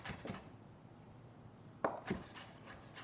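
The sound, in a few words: knife chopping cilantro on cutting board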